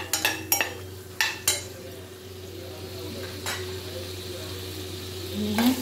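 Green chili and asafoetida sizzling in hot oil in a pan, a steady close frying hiss with a few sharp clinks of a utensil near the start.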